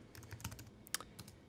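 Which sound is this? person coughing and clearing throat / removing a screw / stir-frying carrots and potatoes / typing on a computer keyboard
typing on a computer keyboard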